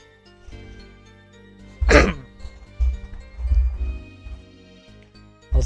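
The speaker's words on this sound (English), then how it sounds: "I'm gonna cough a lot." A person coughs and clears their throat in a few rough bursts, with one sharp loud burst and later heavier rumbling ones, heard close over quiet video game background sound.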